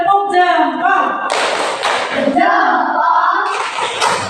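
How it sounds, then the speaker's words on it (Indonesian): A primary school class claps in a thumb-clap routine for a classmate, several bursts of group hand clapping alternating with children chanting along. "Coba tepuk jempol dulu untuk Koyen."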